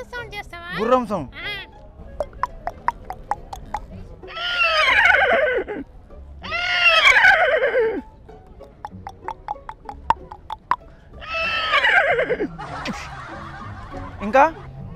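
A voice imitates a horse neighing, with several loud, shaky whinnies separated by clicking and snorting sounds.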